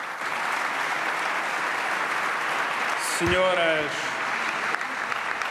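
Sustained applause fills a parliamentary ceremonial hall, broad and steady throughout, with a brief spoken voice cutting in over the clapping partway through.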